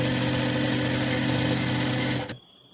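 A sewing machine runs steadily at speed, top-stitching the lining of a princess-cut blouse, its motor drone and needle chatter continuous and close for about two seconds before stopping abruptly.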